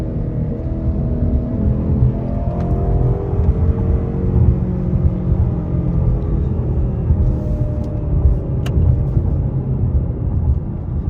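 A 2024 Ford Mustang GT V8 engine roars steadily, a deep rumbling drone with subtle revving swells throughout, heard from inside or close to the car.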